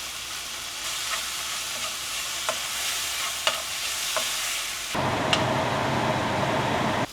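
Spices sizzling and crackling in hot oil as they temper for a tilapia fish curry, a steady frying hiss with stirring, growing louder partway through.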